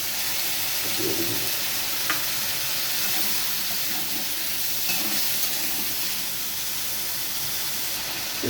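Ground spice paste mixed with water sizzles and hisses steadily in a hot frying pan, a loud continuous fry with soft stirring scrapes now and then and no voices.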